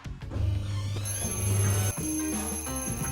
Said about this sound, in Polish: Nie, nie chcę wstawać. Cicho, alarmie.